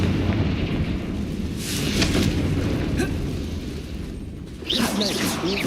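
Confringo spells blast in Hogwarts Legacy, with deep booming explosions and crackling bursts that rise and fall through the clip, a final crackle near the end, and a voice heard over the noise.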